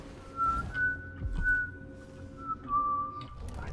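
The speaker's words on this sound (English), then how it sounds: "I just heard whistling." Someone whistles a long, sustained tune in Dishonored 2, a steady clear whistle running across the whole moment over a low background hum of the game's ambience.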